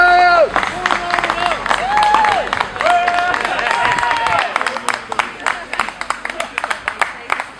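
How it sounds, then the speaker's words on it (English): A crowd gathered outside a house during a halted sheriff's repossession breaks into clapping and cheering, mixed with loud voices and shouts close by. "round of applause there"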